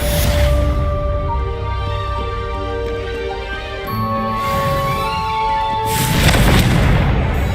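Deep, booming blasts from the Confringo explosive spell in Hogwarts Legacy, a loud burst opening and another near the end, with sustained magical ringing tones and rumbling between them.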